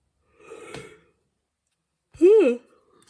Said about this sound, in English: Yeah, I'm yawning again.